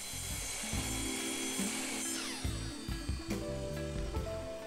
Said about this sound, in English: I came back to the miter saw and I cut off the end to square it up.